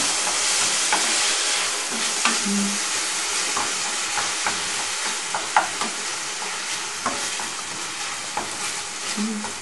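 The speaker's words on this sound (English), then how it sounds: "Now in the pan. Stir around." Matapa cooking in a frying pan, a dense, bright sizzle running throughout with repeated scraping and tapping of a stirring utensil, close up and without speech.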